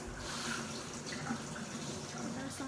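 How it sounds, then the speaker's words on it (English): Water runs steadily from a kitchen tap as hands are washed during pizza making, a continuous, moderately quiet splashing stream throughout. "Go ahead, wash those hands."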